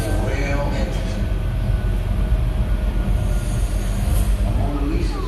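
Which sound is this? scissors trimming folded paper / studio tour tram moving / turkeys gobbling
studio tour tram moving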